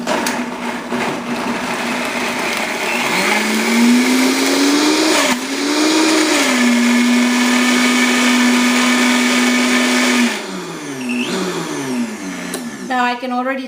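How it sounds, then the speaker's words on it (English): A blender whirs through thick avocado pudding with milk, a loud motor hum that steadies, then dips and surges as the blades bog and catch, while a person talks over it. "So we're gonna start our blender."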